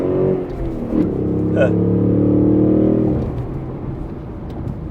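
A deep, rumbling V8 engine of a 2024 Ford Mustang GT with strong low harmonics, revving up and holding a throaty exhaust roar for a couple of seconds before settling to an idle.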